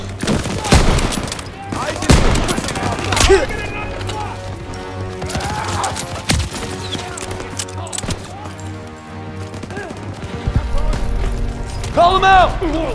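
Automatic machine gun fire in a World War II firefight in Call of Duty: World War 2, loud bursts mixed with single gunshots and explosions, while soldiers shout orders over the battle.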